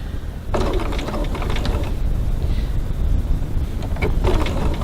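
A sewing machine at its top stitch length runs in bursts, stitching along fabric with a rapid, close mechanical whir and rattle that starts, stops briefly and resumes.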